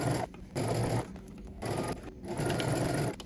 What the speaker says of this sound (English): now we're going to go ahead and baste this together all the way around.